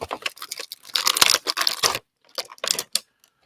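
Adhesive tape is ripped off a Marvel Legends Thor: Love and Thunder action figure package to free Korg's arm, giving close, crisp tearing and crinkling bursts in quick succession with a short pause before a final few rips.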